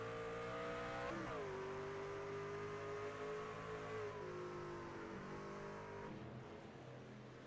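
A racing truck's engine on track accelerates hard, its rising harmonic whine climbing through gear changes during a close battle for the inside lane, loud and continuous with crowd-like roar beneath.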